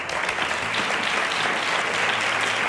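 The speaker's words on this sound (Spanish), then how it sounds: "Un fuerte aplauso para este cuerpo de baile de Soledad Rebollá" Studio audience applause for a dance troupe on a Spanish TV show: dense, loud clapping throughout, continuous and even, with no voices over it.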